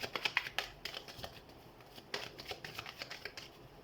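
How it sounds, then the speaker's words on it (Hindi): Tarot cards shuffled by hand, a run of crisp riffling flutters and soft slaps in an irregular rhythm, close and fairly quiet with no talking. "हम कार्ड शफल कर लेते हैं"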